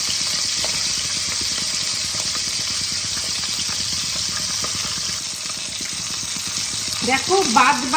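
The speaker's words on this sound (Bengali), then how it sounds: "এবার আমি বাদ বাকি মাথাগুলো ভেজে নেব।" The remaining fish heads for Bengali muri ghonto crackle in hot oil with a continuous close sizzle and light stirring, and a voice cuts in briefly at the very end.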